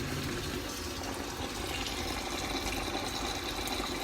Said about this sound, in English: We're going to wash our rice.